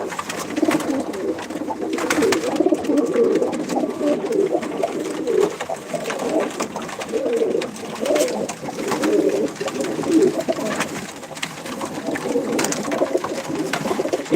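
Pigeons coo repeatedly in low, soft, rolling calls, several birds overlapping close by in a steady murmuring rhythm with faint background noise.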